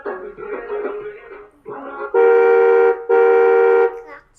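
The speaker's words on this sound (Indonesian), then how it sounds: "Klakson, bisa klakson." A toy ride-on car's horn gives two loud, steady electronic honks, each close to a second long, following a short stretch of melodic electronic tune.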